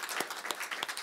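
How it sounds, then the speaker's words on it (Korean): A church congregation at a Sunday service applauds, a short burst of dense, steady hand clapping from many people in a hall. "다시 큰 박수 한번 부탁드립니다."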